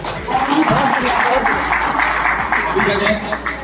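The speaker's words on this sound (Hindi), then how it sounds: "ताली बजाएं" Audience claps at the inauguration of a BJP party office in Gautam Buddh Nagar, a loose burst of applause mixed with crowd voices, fairly close and sustained before tapering off.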